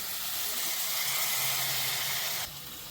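Tomatoes tipped into hot oil with fried spices for a chole masala curry give a loud, steady close sizzle that abruptly drops to a softer hiss near the end.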